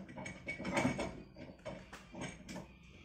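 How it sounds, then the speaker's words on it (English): A hitch pin slides into a trailer hitch while Clearview Rock Tamers mud flaps are fitted, giving a run of close metallic clicks and scrapes in uneven bursts, loudest near the start, with no voices. "So put the hitch pin in to make sure that I've got it lined up where it needs to go"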